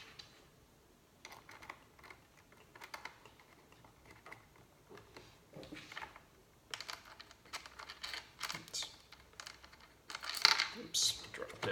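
A small metal jam nut falls during fitting of a shifter ring on a 2014-or-later Toyota Tundra and lands with sharp little ticks and clinks near the end, among quiet handling clicks, with soft talk in the background.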